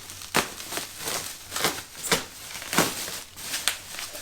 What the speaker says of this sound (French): On va déballer le second.